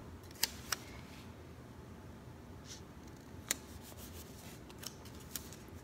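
Scissors snip planner sticker paper for an Erin Condren planner, giving a few sharp, close cuts spaced apart over quiet room noise, with no talking.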